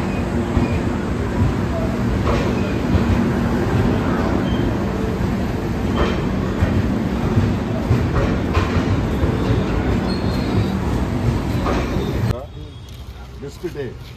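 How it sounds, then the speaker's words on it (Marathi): A passenger train runs on rails in Tamil Nadu, a loud steady rumble with rhythmic wheel clatter heard from onboard, continuing for about twelve seconds before dropping abruptly to a quieter interior hum. "तर बघा फायनली आता ही ट्रेन चालली आहे आमची."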